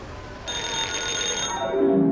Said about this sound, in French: Le réveil de maman Saucisse sonne.